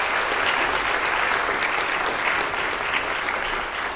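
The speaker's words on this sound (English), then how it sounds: "So give them a big round of applause" A church congregation at a worship service applauds continuously, dense clapping filling the space at steady loudness.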